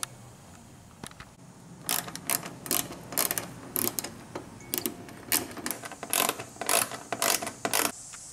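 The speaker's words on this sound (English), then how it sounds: "the first thing I'm going to do is take off all these Torx bits bolts over here along the edge" Ratchet tool clicking in quick bursts while Torx bolts come off along the edge of a 2017 Camaro front bumper, close and loud with short pauses between runs.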